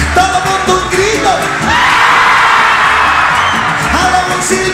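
A concert crowd at a palenque venue in León, Guanajuato, shouting together: a dense roaring mass of yells and whoops swelling and sustained for several seconds, with scattered individual cries over it.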